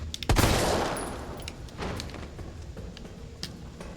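A loud, booming magnum gunshot fired at zombies in the Resident Evil 3 remake, followed by a decaying echo, a softer second blast and scattered clicks and thuds.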